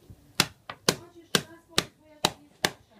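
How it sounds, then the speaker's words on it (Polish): An iPhone being whacked with a broomstick: seven sharp, loud, close impacts spaced roughly every half second, each a short knocking crack with brief ring-out, with no talking. "Why don't I just whack it with the broomstick?"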